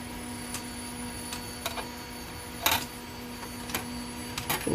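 Electrovert OmniMax 10-zone reflow oven conveyor belt runs with a faint steady mechanical hum and a low tone, dotted with soft intermittent clicks and ticks, no talk.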